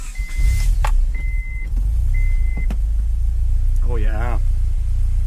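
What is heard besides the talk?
turbo Honda H22 engine starting and idling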